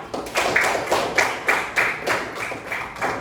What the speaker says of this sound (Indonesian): Oke, tepuk tangan untuk semua kelompoknya.